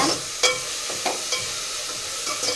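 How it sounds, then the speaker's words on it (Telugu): Onions and green chillies fry in a pan, giving a steady close crackling sizzle broken by a few sharp spatters and pops, with no talking. "ఉల్లిపాయలు అయితే కొద్దిగా కలర్ చేంజ్ అయ్యి ఇందులోకి పచ్చిమిర్చి"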